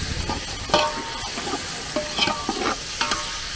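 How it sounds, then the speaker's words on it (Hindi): Onions fry in a pan over a wood fire and get stirred until browned, with a steady hiss and sizzle broken by several sharp scraping strokes, close and moderately loud. "प्याज लाल कर रहे हो?"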